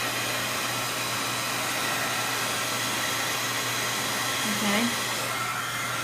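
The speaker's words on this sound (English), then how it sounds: "Use your heat gun." A heat gun blows steadily over a wet cardmaking project with foil, a constant loud broadband rush that holds throughout, with a brief spoken word near the end.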